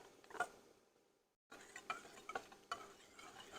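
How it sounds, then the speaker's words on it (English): A whisk stirs chocolate as it melts in a pan, giving soft, faint scraping clicks in irregular strokes. A brief silent gap breaks up the strokes. "just kind of constantly whisk it while it's melting"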